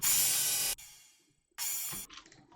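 Layered claps used to fill space in a dubstep mix sound as two long, hissing bursts of noise, each held for nearly a second before cutting off, with a quieter noisy tail after the second.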